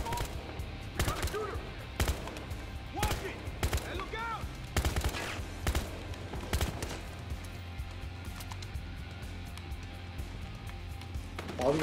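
Bursts of gunfire in the video game Battlefield Hardline crack out irregularly, several sharp shots in quick clusters, over a steady low background rumble.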